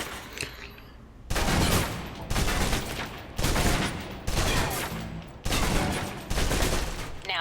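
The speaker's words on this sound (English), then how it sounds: "Now, let's move on to the submachine gun. Do we have to? I hate it. Now let's empty the clip." A submachine gun in Alpha Protocol emptying its clip as several loud, sustained bursts of rapid automatic fire, separated by short pauses, close and dominant, with no talking over the shots.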